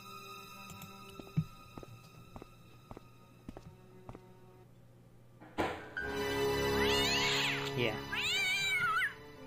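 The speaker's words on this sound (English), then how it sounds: "I think a cat jumps out of that one." Several meows from a cat in the point-and-click adventure game Broken Sword, loud and close after a few seconds of quieter ambience with scattered thuds, with a brief spoken word near the start.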